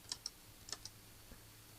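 A few light, quiet keystrokes tap on a computer keyboard, an irregular cluster of clicks followed by a single softer tap in an otherwise still room.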